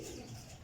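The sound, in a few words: pigeon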